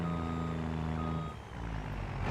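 Truck backing up in a farming video game, emitting a steady series of loud electronic reversing beeps over a low engine drone, with no talking.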